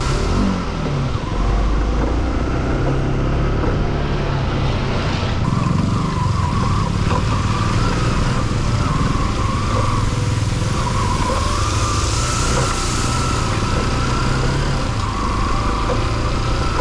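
Motorbikes and other vehicles churn along a badly muddy mountain road, engines droning and revving close by in a continuous mix, with one machine swelling louder midway.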